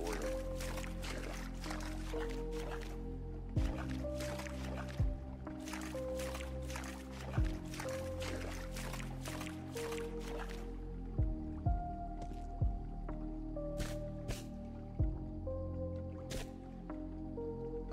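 Video-game character walking through water: wet squishing splashes and drips repeat at a steady walking pace over a sustained tonal music bed, with occasional louder sloshing steps.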